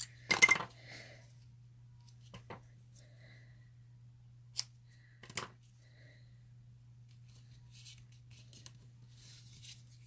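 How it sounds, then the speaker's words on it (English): Ribbon snips cut through Whisper White flax ribbon with a sharp close snip near the start, then a few fainter clicks later, all over a steady low hum. "Get my ribbon snips here."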